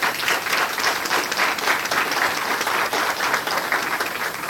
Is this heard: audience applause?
yes